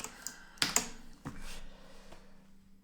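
Close, fairly loud bursts of typing on a computer keyboard, a few sharp key strikes followed by a quieter run of keystrokes that trails off, with no talking.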